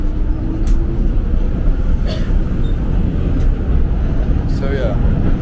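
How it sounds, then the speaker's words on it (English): Rio de Janeiro metro train in motion, a steady rumbling rail roar heard from inside the carriage with a few faint squeals and clatters riding on top. "this is what the metro in Rio looks like"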